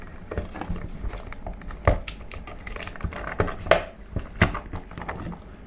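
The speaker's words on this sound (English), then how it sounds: "This is a plastic tray over here with a plastic lid." Plastic tray and plastic lid from frozen rasmalai packaging being handled, giving irregular light clicks, taps and crinkles close by, with a few sharper snaps standing out against a quiet background.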